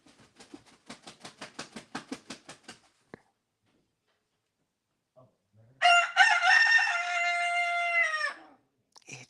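A pet rooster gives a loud, close cock-a-doodle-doo crow with a long drawn-out final note, following a quick run of rhythmic clucking or patter sounds and a short pause.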